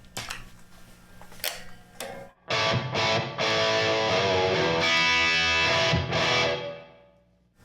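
An electric guitar plays through a Line 6 Helix modelling a Mesa/Boogie Mark V on channel 2. A few picked notes come first, then loud sustained driven chords ring out and fade.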